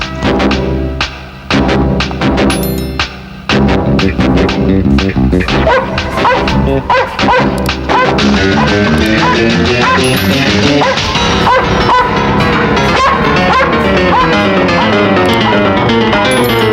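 A dog in a Hindi film barks and yips after being released, repeated sharp barks over loud background music.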